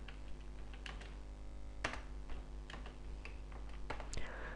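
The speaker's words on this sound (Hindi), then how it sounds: "तो जैसे ही मैंने राना मेहताब आलम यहाँ पे टाइप करके क्लोज किया" A computer keyboard is typed on in an irregular run of soft clicks and taps, with a few sharper keystrokes standing out over a quiet, low background hum.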